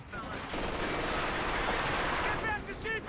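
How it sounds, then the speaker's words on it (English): Sustained MG-42 machine gun fire in a multiplayer war video game, a dense continuous barrage with shouted voices and battlefield chatter mixed in throughout. "Taking MG-42 fire!"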